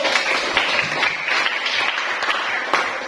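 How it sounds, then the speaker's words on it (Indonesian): Students in a junior high mathematics classroom applaud the presenting groups, a steady wash of many hands clapping together throughout. "Silakan beri tepuk tangannya dulu"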